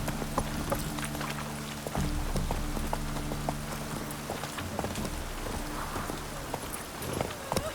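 Horse hooves gallop in a steady rapid clip-clop rhythm in the Witcher 3 video game, moderately loud over a rainy, ambient background, with no talking.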